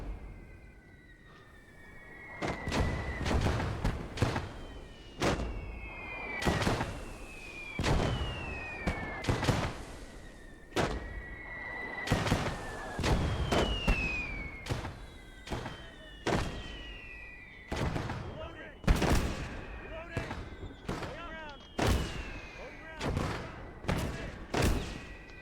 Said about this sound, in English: First sample will be a bunch of mortars.